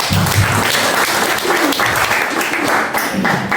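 Loud, sustained applause from a room full of people at a church worship service, dense and continuous with a few voices rising within it.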